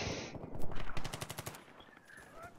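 Rapid automatic gunfire in the first-person shooter Battlefield 3, a burst of evenly spaced shots close and loud in the first second and a half, then fading into quieter game ambience with more distant pops.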